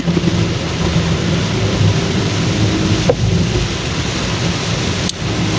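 Rain pours steadily onto a city road in Banani, Dhaka, as a dense, loud, even wash of patter, broken only by a couple of sharp clicks and with no talk.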